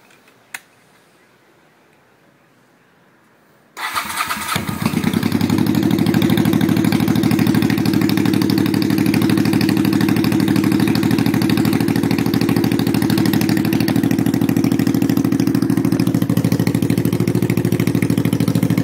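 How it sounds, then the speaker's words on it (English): A 1983 Honda Shadow VT750C with its stock exhaust removed cranks and fires after a few quiet seconds, then settles into a loud, raw, steady open-pipe idle heard up close. "Just took off the exhaust, stock exhaust."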